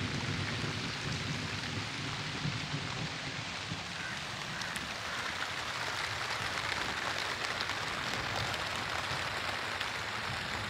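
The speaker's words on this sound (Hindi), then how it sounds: "बहुत ज़्यादा तेज़ बारिश आ चुकी है।" Heavy rain pours steadily, a dense continuous hiss of drops hitting surfaces, with no voices.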